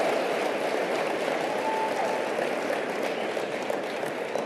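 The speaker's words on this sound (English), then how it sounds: "Give her a round of applause." An audience at a motivational seminar applauds, a steady dense wash of clapping that holds evenly for several seconds, moderately loud and without talk.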